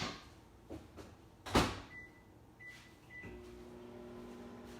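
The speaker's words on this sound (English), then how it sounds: "So I'm gonna put this back in the microwave for about 10 or 15 seconds." A microwave oven gets its door shut and keypad beeps a few times, then its motor starts a steady, close hum to remelt chocolate chips.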